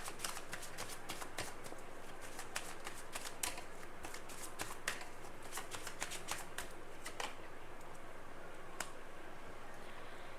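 Tarot cards shuffled by hand for a clarifying reading, a steady run of soft riffling flicks and taps up close, quiet and continuous with no voice over them.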